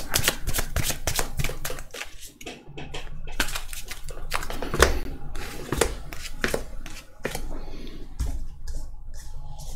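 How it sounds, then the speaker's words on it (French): Tarot cards are dealt one after another onto a table in two rows. The crisp slaps and flicks sound close and quick, falling in an irregular rhythm with a few short pauses. "On va mettre 6 cartes en haut, 6 cartes en bas, que l'on va recouvrir 2 fois."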